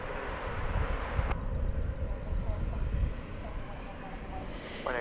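An American Airlines jet takes off at night from runway 18 left at DFW Airport, heard as a distant, sustained low roar with faint voices in the background.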